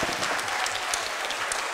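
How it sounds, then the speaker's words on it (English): Audience in a courtroom-style setting applauds after a school mock trial, with dense steady clapping throughout at a moderate distance. "Let's give them a big round of applause."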